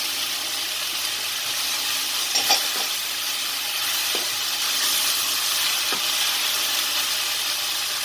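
Garlic and minced meat fry steadily in a pan for a Turkish börek filling, an even close sizzling hiss with a few soft stirring knocks, no talking.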